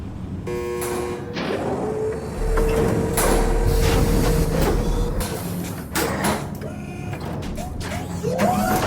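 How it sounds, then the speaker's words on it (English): Prison cell block doors open in the video game Mass Effect with a run of mechanical whirring, sliding and clanking. Metallic thuds and hums rise and fall across several seconds, with no talk. "If we hack that control, every door on the cell block opens."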